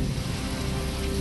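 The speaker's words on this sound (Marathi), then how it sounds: "पुण्याच्या खेड तालुक्यामध्ये जोरदार पाऊस." Heavy pre-monsoon rain falls in Khed taluka near Pune, a dense, even hiss of downpour drumming on surfaces, loud and unbroken for a brief moment with no voices.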